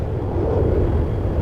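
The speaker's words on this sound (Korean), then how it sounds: "저기 비행기가 또 날아가요." Airplane passing over a new apartment complex in Geomdan New Town, a steady low broadband roar throughout the short stretch with no voices.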